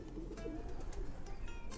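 Racing pigeons, long-distance old birds, cooing softly inside a loft, a low steady murmur of calls with faint chirps from other birds in the background.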